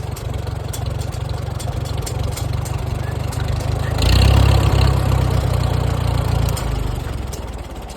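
A Farmall M tractor engine idles steadily with a rich-running carburetor, a close, even low chug that swells louder around the middle before settling back, with no talk over it.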